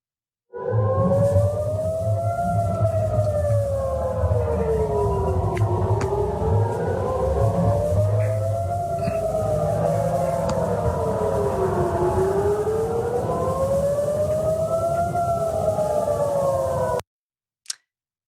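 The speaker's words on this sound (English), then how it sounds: "beachgoers in Tel Aviv fleeing for their lives as they hear the sirens go off" Air raid sirens wailing over a Tel Aviv beach, several rising and falling tones overlapping and drifting in and out of phase, loud and continuous for about sixteen seconds before cutting off abruptly.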